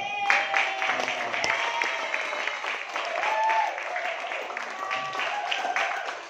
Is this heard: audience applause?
yes